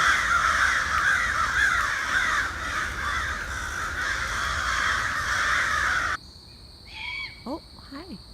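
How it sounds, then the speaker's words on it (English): Crows cawing non-stop from the trees of Eberwhite Woods near a perched owl, a loud, dense chorus of caws and a high steady drone for most of the clip, then a few sparser calls after the noise cuts out. "the crows are just non-stop"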